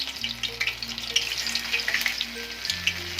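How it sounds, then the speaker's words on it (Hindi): Pieces of beef tikka frying in hot oil, a close crackling sizzle with sharp pops and spatters over a low steady hum, with no talking. "इसको हम फ्राई कर लेंगे"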